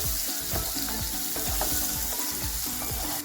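Finely chopped tomato with onion sizzles steadily in a hot pan, a dense continuous frying hiss broken by regular scraping strokes of a stirring spoon, close and loud with no talking.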